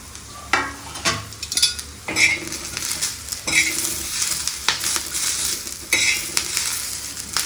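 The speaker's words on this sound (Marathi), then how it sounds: "मसाल्यातच परतून घेऊया." Garlic, curry leaves and coriander stems sauté in a masala for a chana dal vada curry, with continuous loud sizzling and repeated scraping stirs of a spoon against the pan, close up, no talking.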